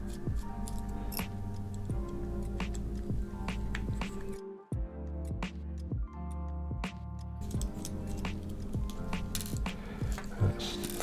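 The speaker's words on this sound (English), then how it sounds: "there are 4 screws, so you just need a small Phillips screwdriver each side of the throttle assembly" Small Phillips screwdriver backing out screws from the throttle assembly of a Turboant X7 Pro electric scooter: close, quiet metallic ticks and clicks in irregular bursts, with a short pause midway.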